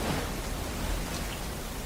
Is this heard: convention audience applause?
no